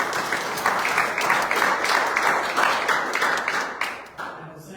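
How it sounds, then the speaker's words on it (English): A village board meeting audience breaks into a dense, steady round of applause, many hands clapping together at close range for several seconds before thinning out near the end. "let's give her a round of applause."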